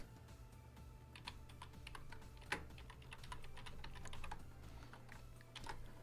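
Code being typed on a computer keyboard during a programming lesson, a steady run of quiet, close key clicks with an occasional sharper keystroke and no voices.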